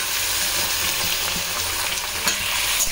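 Spices, dried chillies and green chilli paste fry together in a pan with a continuous close sizzle and a faint sound of stirring.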